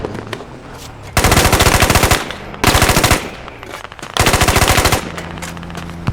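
Three long bursts of rapid automatic gunfire in a squad video game, loud and close, separated by brief pauses filled with quieter game background sound.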